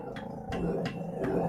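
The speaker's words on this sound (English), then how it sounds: "Maybe he's barking like that because he know of them." A dog barks at pet birds indoors, giving four loud, close, rough barks at a fairly even rhythm with low growling between them and no voices.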